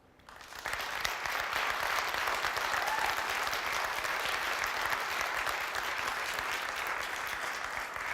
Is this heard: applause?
yes